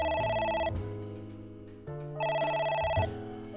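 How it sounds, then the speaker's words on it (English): A telephone rings inside the video game AI: The Somnium Files, two clear synthesized ringing bursts over a low musical backing, steady and moderately loud with no talk. "A phone. Should I pick it up?"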